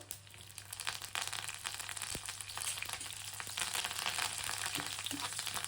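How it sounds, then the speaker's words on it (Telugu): Dried chillies, cumin, mustard seeds and crushed garlic fry in sesame oil with a soft, steady sizzle, close and fairly quiet, broken by a few faint pops and crackles. "ముందైతే ఎండుమిరపకాయలు, జీలకర్ర, కొన్ని ఆవాలు, దంచుకున్న వెల్లుల్లి రెబ్బలు కొన్ని వేసుకుంటున్నా"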